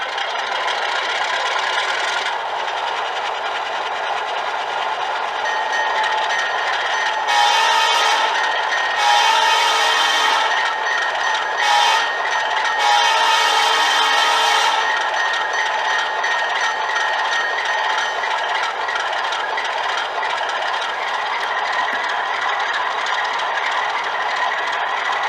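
A Bowser RS3 model diesel locomotive fitted with a sound system starts up and idles with a steady rumbling, rattling engine drone, with a brighter hiss rising briefly in the middle before settling back to a constant hum.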